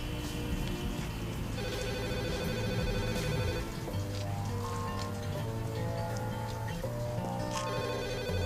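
A telephone rings inside a home in a French-dubbed thriller, its bell sounding repeatedly beneath a steady bed of film music and ambience.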